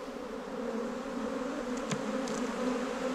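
Honey bees at a hive swarm with a steady close buzzing hum, continuous and dense throughout, with a couple of faint clicks and no talk.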